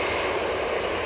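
Steady broadband roar of a Brussels Airlines Airbus A320 jet at Manchester Airport, a continuous loud engine rush with no breaks and no voices over it.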